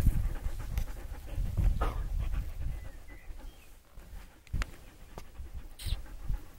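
A dog pants rapidly and steadily close by outdoors, with a few breathy bursts and small rustles around the rhythmic breathing.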